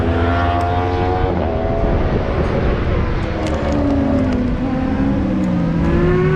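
Race cars at the Le Vigeant circuit during an Ultimate Cup 2020 Friday practice day, with loud, close engines whining through rising and falling gear pitches as several cars pass, one sweeping upward near the end.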